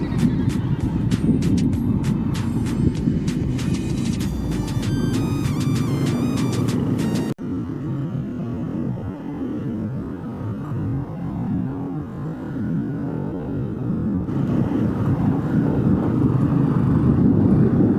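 A motorized tricycle's engine runs loud and close with a steady, buzzing rumble. Its tone shifts partway through as it moves past, then it keeps droning on.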